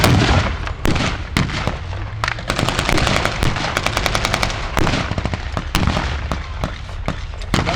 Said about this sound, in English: A serious amount of firepower going down there from 34